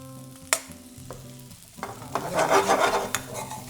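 Spices fry in oil in a pan for king prawn biryani, a close crackling sizzle that builds and grows busier, punctuated by a few sharp utensil clinks against the pan.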